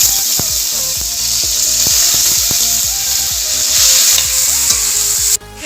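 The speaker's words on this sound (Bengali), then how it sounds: "আমি চিকেনগুলো একটু ভেজে নেব।" Chicken pieces frying in hot oil in a pan, a loud continuous sizzle with repeated scraping and stirring clatters close by.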